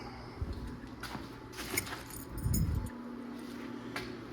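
Fresh Kubota tractor ignition keys jangle and clink in short metallic bursts, close and fairly quiet, with a few handling knocks and bumps around them during an ignition switch replacement.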